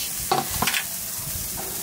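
Vegetables frying in oil in a pan, a steady sizzle broken by a few scraping stirs of a spatula near the start and one more toward the end.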